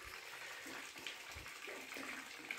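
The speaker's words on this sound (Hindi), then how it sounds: "ये जो पानी आ रहा है वो पहाड़ के अंदर से आ रहा है" Water flows steadily out from inside a mountain at a temple spring that marks a river's source, a continuous close rushing and splashing with no talking.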